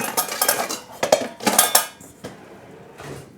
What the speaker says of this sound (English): I should really switch this to a bigger bowl.